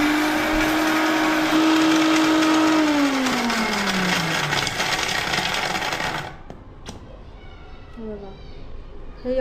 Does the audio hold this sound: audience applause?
no